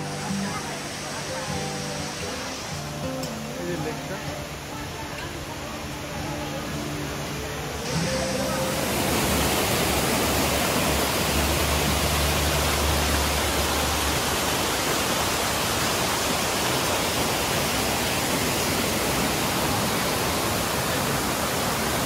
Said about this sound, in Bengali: তো এই ফলসটা তাও মোটামুটি ভালো।